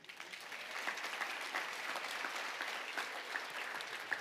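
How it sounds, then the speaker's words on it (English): Steady applause from a sizable audience, dense and continuous for several seconds with no talking over it. "that's worth applause."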